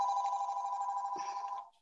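A telephone rings at a town council meeting, one sustained steady ring tone that is fairly close and clear, then cuts off near the end. No one speaks over it.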